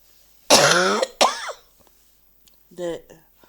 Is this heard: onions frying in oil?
no